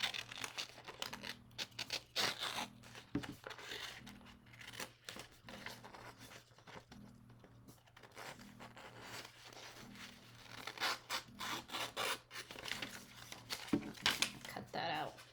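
Scissors snipping through paper while cutting out a paper wolf craft, with repeated short snips spread through the clip under ongoing talking.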